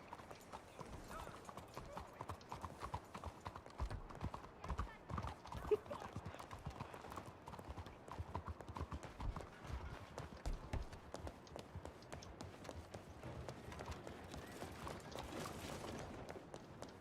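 Horse hooves clip-clopping in the Red Dead Redemption 2 video game, a steady rhythmic run of hoofbeats at moderate distance that continues throughout under faint background sound.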